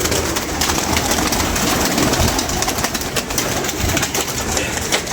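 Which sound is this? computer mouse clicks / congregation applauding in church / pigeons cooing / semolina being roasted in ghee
pigeons cooing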